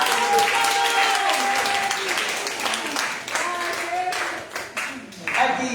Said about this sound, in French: Acclamez là.